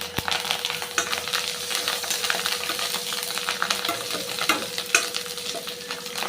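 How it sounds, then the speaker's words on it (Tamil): Sesame oil sizzling with curry leaves in a pan while cooking narthangai pachadi, a bright continuous crackle with scattered sharp pops and metallic utensil clicks, close and fairly loud. "இது கொஞ்சம் வதங்கட்டும் கொஞ்சம் கருவேப்பிலை"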